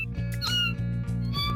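A cat meows in the video game No More Heroes, several short, bright mews over a steady humming music bed, with no voices.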